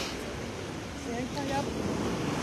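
Ocean swell and surf wash onto a damaged beach at Rivière-Sens in Guadeloupe after a hurricane, a low, steady rumbling roar mixed with wind noise, with a voice speaking over it.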